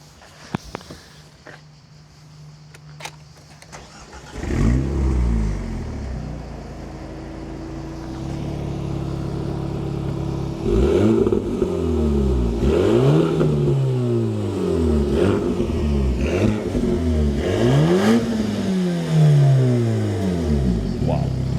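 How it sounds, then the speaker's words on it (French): An Alpine A110 GT four-cylinder engine cranks and fires up after a quiet start, then settles into a steady idle punctuated by repeated sharp revs that rise and fall, close and loud. "je fais un petit test. Je démarre pour toi et les internautes."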